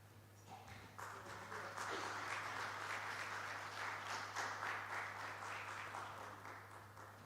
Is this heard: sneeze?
no